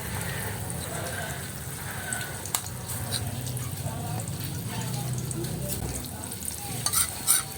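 Leftover marinated food frying in a pan, a steady soft sizzle with occasional stirring scrapes and clinks, fairly quiet and continuous throughout.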